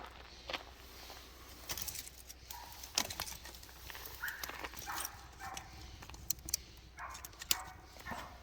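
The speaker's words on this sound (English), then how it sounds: "Yappy dogs." Small yappy dogs bark at a campsite on a solo backpacking trip along the Oregon coast, giving scattered short, sharp yaps at a moderate distance amid clatter and outdoor background noise.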